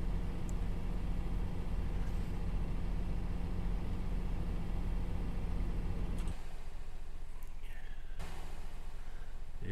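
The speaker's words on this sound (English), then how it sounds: "Sounds very much more tinny, this truck." Steady low truck engine drone from American Truck Simulator, a tinny-sounding rig cruising along, continuous and fairly loud until it drops sharply to a quieter hum partway through.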